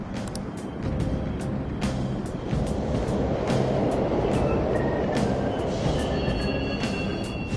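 Subway trains run in a PS4 video game, making a loud, continuous rumbling roar with scattered metallic clatter and a faint rising whine near the end, with no talking.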